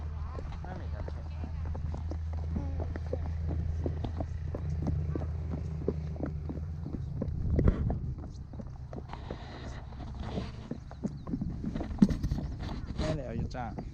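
A ridden horse ambles on the Kusasenri grassland, its hooves tapping out a regular moderate clip-clop close by, with a louder thump midway and voices talking over the steps.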